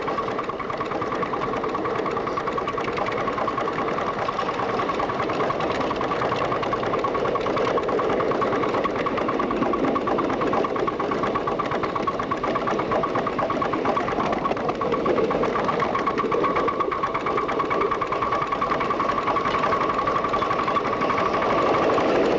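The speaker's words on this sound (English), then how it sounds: "Note the sound of the valves." A live steam miniature locomotive at the New England Live Steamers track runs with a continuous mechanical drone and rapid, even valve chatter, steady and fairly close throughout, without speech.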